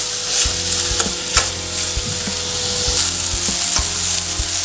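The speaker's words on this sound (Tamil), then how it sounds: "தக்காளி அப்போ தான் நல்லா மசிஞ்சு சாஃப்டாக வதங்கி வரும்" Tomatoes and onions with rock salt sizzle steadily in a pan for a chutney, a continuous frying hiss broken by a few sharp spatula clicks, close and with no talking.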